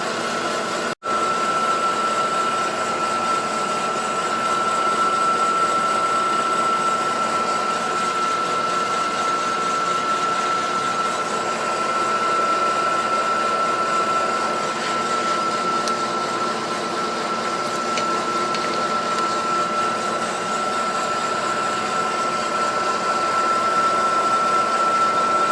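A boring bar cuts inside a Suzuki TS185 two-stroke motorcycle cylinder, giving a steady, loud machining drone with a constant whine that holds unbroken for the whole stretch.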